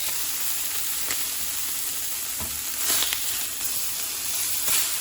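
Steaks sizzle in a pan with a bright, steady hiss, and a few louder bursts and clinks come as the meat is turned, close up with no speech.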